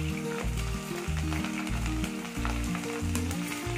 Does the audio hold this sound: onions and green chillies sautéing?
yes